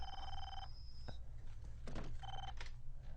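A telephone rings in a Family Guy episode scene: two clear electronic ring bursts separated by a pause, with a thump and brief noises between them, over a low background hum.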